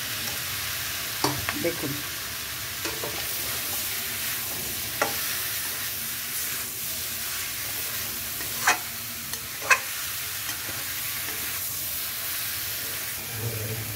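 Figs frying in a little oil in a pan, a steady soft sizzle and hiss close by with a few scattered spatula clinks and pops, one brief spoken word partway through.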